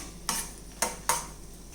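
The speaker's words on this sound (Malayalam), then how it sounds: "മുളകും കറിവേപ്പിലയും മൂത്ത് വന്നിട്ടുണ്ട്" Kashmiri chillies and curry leaves roasting in a pan for mango chilli masala, stirred with three brief scraping strokes of a spoon against the pan over a faint background hiss.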